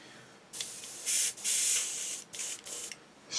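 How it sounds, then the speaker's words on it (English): An airbrush sprays out cleaner in several bursts of loud, close hissing of varying length, separated by brief pauses, with no voices. "Spray out that little bit of airbrush cleaner I always leave in there"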